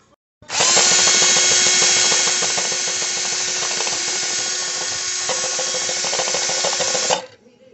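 A power drill fitted with a paint mixer whirs steadily while stirring a can of VHT flame-proof paint, one loud, continuous spin of about seven seconds that slows slightly near the end before cutting off.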